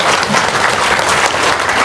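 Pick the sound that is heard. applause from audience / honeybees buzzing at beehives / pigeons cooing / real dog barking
applause from audience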